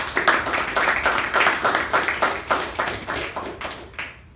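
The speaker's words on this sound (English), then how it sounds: "can we have a huge round of applause for the evaluator and the speaker?" A small group claps for a speaker and evaluator at a Toastmasters meeting, distinct rhythmic hand claps in a quick, fairly even beat that slows and stops after about four seconds, close and clear.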